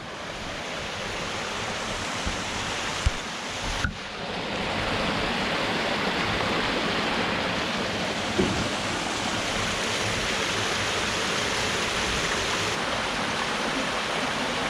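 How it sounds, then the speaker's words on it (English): Two streams meet in Goyt Valley in the Peak District, giving a steady, broad rush of flowing water that runs nearly unbroken throughout, with a couple of brief knocks and no voices. "You've got streams either side meeting each other."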